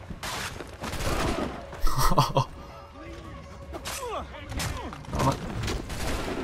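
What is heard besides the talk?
gunfire in the video game Assassin's Creed 3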